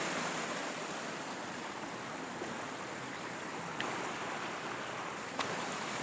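Steady broadband rush of falling water from a mountain waterfall in monsoon greenery, continuous and fairly even, with a couple of faint brief clicks and no voices.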